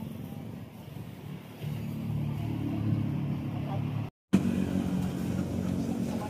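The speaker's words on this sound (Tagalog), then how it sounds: "sakay tayo ng tricycle" A motorized tricycle's engine hums and revs steadily up close, briefly cutting out before rumbling on, with voices in the background.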